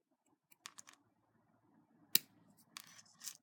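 Scissors snip a small flower off a craft bling roll, a few quiet close crisp cuts and clicks spaced apart, with one sharper snap in the middle.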